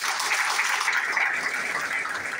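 Audience applause at a stage-sharing event, a dense, steady wash of many hands clapping together, loud and continuous without a break.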